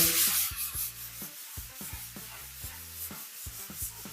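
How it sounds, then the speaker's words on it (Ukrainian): Art concrete hand-sanded with 120-grit sandpaper on a plain float in circular motions, making repeated close, rhythmic rasping rubs about twice a second. "Ми використовуємо таку звичайну терку і наждачка розмір зерна 120. Робимо це круговими рухами."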